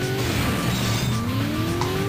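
A car engine roaring steadily in the driving game Driver 2, with a rising tire squeal layered over it, loud and continuous throughout.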